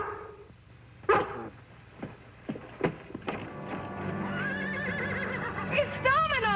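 A horse neighs and whinnies several times, with sharp bursts followed by a long quavering whinny, mixed with a dog's barks.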